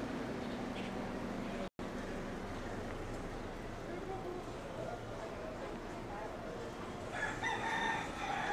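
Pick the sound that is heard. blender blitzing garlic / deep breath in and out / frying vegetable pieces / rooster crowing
rooster crowing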